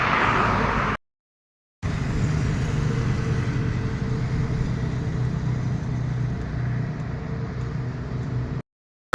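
A Hero Passion Pro motorcycle speeds along a road between Assam and Meghalaya, its steady engine drone and rushing wind running throughout, broken by two brief silent gaps.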